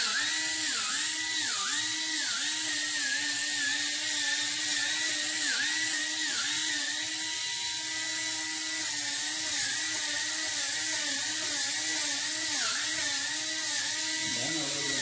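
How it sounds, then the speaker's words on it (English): An edge being polished smooth with Scotch-Brite produces a continuous high, whirring whine like a small rotary tool, close and steady with slight wavering pitch for the whole stretch. "Then I take the Scotch-Brite and I polish that edge out."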